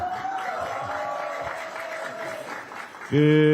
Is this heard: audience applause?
yes